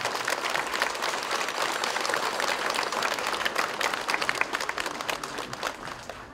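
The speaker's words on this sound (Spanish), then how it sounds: "les pido un fuerte aplauso para todos ellos." Congregation applause at a church festival Mass in Las Tortugas, Michoacán, a steady wash of many hands clapping at moderate level throughout, slightly uneven toward the end.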